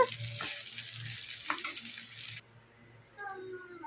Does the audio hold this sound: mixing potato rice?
yes